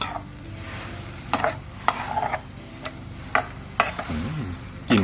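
Beef for pad kra pao stir-fries in a pan with dried chilies, with a steady sizzle under repeated sharp scrapes and clanks of the spatula against the pan.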